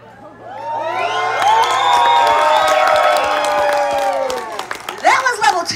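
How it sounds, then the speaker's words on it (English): Renaissance festival crowd bursting into cheering, whoops and applause, children shouting among it, building quickly, holding loud for a few seconds, then fading into scattered claps and shouts. "Now that was level one round of applause."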